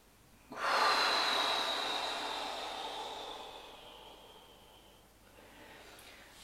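A single deep, slow breath drawn in and let out during a stress-relief exercise, loud and close at first, then fading into a long, soft airy exhale, with no speech.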